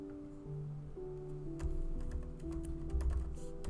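Quick, light keystrokes patter on a computer keyboard, sparse at first and denser after a moment, fairly quiet, over a faint steady tonal hum.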